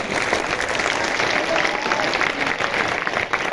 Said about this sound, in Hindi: तालियां जोर से बजती रहनी चाहिए.